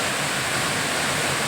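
Kothapalli waterfall in Paderu, swollen after rain, roars as a dense, unbroken wash of falling water heard alone.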